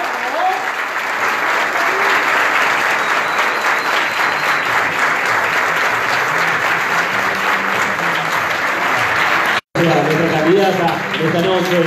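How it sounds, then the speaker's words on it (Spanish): Steady crowd applause at a city council candidate's campaign launch evening in Posadas, with voices calling out beneath it and a brief cut before the clapping resumes with speech over it. "Los aplausos."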